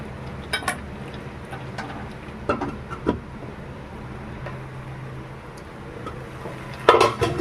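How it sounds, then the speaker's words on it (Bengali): A lid goes onto a cooking pot of jackfruit and fish set to simmer on low heat. A few light metallic clanks and knocks come through over a low background hum, then a louder clatter as the lid settles at the end. "এবার ঢাকা দিয়ে দেবো"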